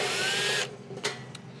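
A power drill runs on a screw in an electric dryer panel during a heating element replacement, one continuous whir that cuts off, followed by two short bursts.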